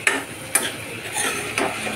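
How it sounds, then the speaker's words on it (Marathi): Mushrooms being sautéed in oil in a pan for a mushroom masala gravy, a faint sizzle with two or three quick spoon scrapes and taps, close and fairly quiet. "आता यात मशरूम घालायचे, यात मशरूम ॲड करायचे आणि मस्त परतून घ्यायचे"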